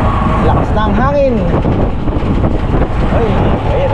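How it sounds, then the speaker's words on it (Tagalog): Strong wind buffets the microphone outdoors at a market, a loud continuous rumble throughout, with a voice speaking over it. "Given na yung hangin, medyo malakas."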